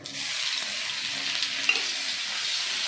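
Panch phoron spices and dalia fry in a pan with a loud, dense, continuous sizzle up close, steady from start to finish, with one brief crackle partway through.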